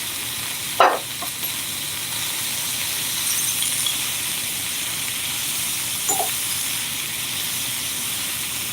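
Spicy sausage frying in a pan until crispy, giving a steady hiss and sizzle throughout with a couple of brief clinks or scrapes, one early and one later.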